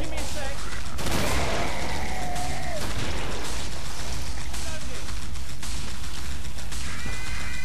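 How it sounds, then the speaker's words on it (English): A grenade blows up in the video game Killing Floor with a sharp, loud burst, set within dense gunfire, mechanical clatter and other game noise that continues steadily throughout. "my nade just exploded"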